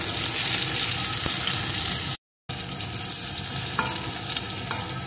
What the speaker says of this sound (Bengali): এখন এর ভিতরে দিয়ে দেবো একটা টমেটো কুচি, টমেটো কুচিটাও একটু ভেজে দেব।